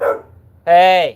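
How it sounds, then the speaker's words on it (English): A dog gives a loud, sustained bark-howl close by, following a brief spoken word at the start. "They bark at anything."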